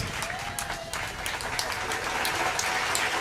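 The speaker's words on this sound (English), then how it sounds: "Give her another round of applause, ladies and gentlemen." Audience applause at a Culturama poetry event in the square in Nevis, a dense, steady wash of many hands clapping close by that swells slightly toward the end, with faint voices mixed in.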